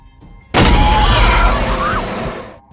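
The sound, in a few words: explosion of the Kepler base in a film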